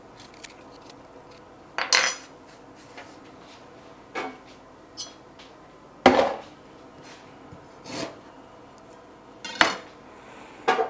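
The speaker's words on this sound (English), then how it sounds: "Just scrape it back with a spoon really easily." Ginger skin scraped off with a spoon in a kitchen, giving a series of short, close scraping and clinking strokes at irregular intervals, with no voices.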